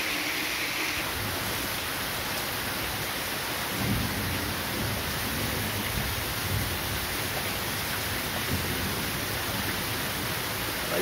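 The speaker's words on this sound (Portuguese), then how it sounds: "É muita chuva aqui com trovoada." Dense, loud rain pours steadily with a low rumble of thunder rolling underneath, continuous and close, no voices, in Paudalho, Pernambuco, Brazil.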